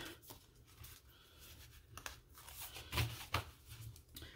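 Cash savings challenge cards are mixed and shuffled by hand on a tabletop, giving soft papery rustles and a couple of sharper flicks near the end, quiet and close with no talking.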